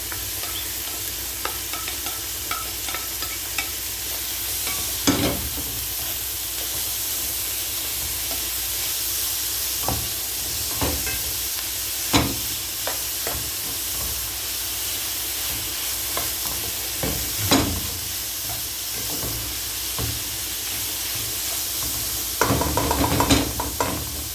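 Cauliflower fries in a pan with a continuous close sizzle and hiss, broken by occasional scraping stirs and clinks from a utensil, and nobody talks.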